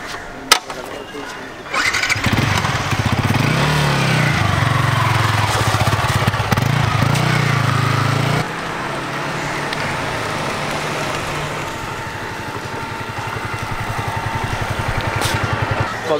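A Yamaha YZF R15 V3 motorcycle starts up after a couple of seconds of quiet, then settles into a loud, steady buzzing idle with a slight drop in level midway.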